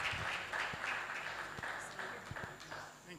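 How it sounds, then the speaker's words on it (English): Applause from a conference audience for a speaker at a tech event: a steady, moderately loud spread of clapping running throughout, with talk continuing over it. "please keep clap for Mr. Rudman"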